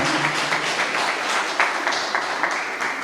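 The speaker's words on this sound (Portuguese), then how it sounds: "Vamos aplaudir ao Senhor nessa noite pela sua palavra" A church congregation at a Friday night service breaks into sustained applause, a dense patter of many hands clapping together at moderate volume, continuing steadily without talk.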